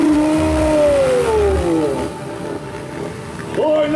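Dirt bike engines revving together at the start of a velocross race in Jardim de São José, Russas, Ceará, rising and falling whines up close and loud, with an announcer talking over them.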